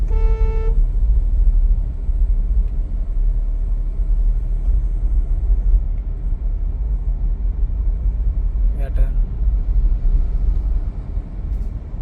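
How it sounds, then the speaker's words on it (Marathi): A single short car horn toot sounds at the start, clear over the steady low rumble of a car being driven in traffic during a driving lesson. Only the continuous engine and road drone follows. "हॉर्न द्यायचा असं."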